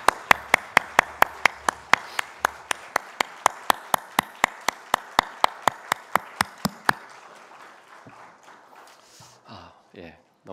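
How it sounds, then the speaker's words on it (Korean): A congregation at a Sunday worship service claps in unison, sharp rhythmic beats ringing out for about seven seconds before fading into scattered soft sounds and quiet. "주님께 영광의 박수 올려드리겠습니다"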